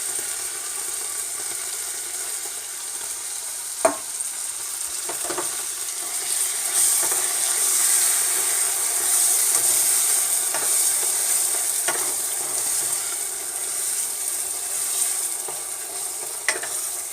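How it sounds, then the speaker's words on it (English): Tomato sauce frying in a pan alongside rice for a Mexican rice dish, with a constant hissing sizzle and sporadic scraping stirs and knocks of the utensil, heard close with no voices. "You want to fry the tomato sauce a little bit."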